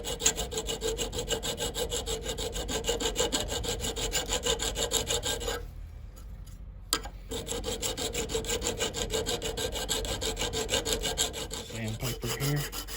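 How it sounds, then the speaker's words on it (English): A file rasps over soft pewter on a trail knife's antler handle in steady, rhythmic back-and-forth strokes, close and loud. There is a brief pause in the middle, then the filing resumes. "I've got this file ground down on the edges so it don't cut into my blade."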